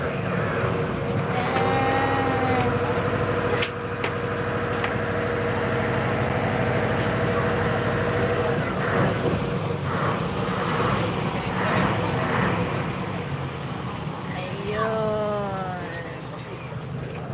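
A steady engine drone runs throughout, a sea fishing boat's motor idling nearby, with voices talking over it.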